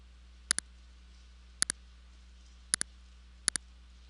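Keyboard keys pressed in quick pairs, four double-clicks spread evenly over a few seconds as Control C and Control V shortcuts are typed, crisp and close against a quiet hum with no talk.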